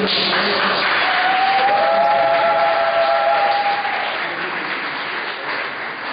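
A church congregation applauds and cheers for the pastor in a steady, loud wash of clapping that fades slightly toward the end, with a brief tonal whistle-like sound rising through the middle.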